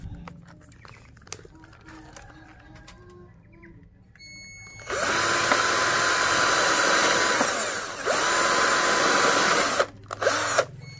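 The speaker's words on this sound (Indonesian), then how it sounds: "lalu kita lubangi lagi yang sebelah bawah ya," An electric drill boring a hole in a homemade dustpan, with a loud, steady whine in two long bursts separated by a brief dip, after quieter handling clicks and knocks.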